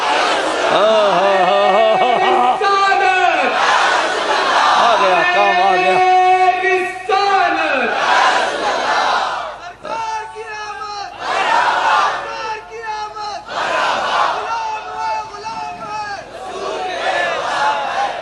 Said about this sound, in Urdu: زور سے نعرہ لگا دو یا رسول اللہ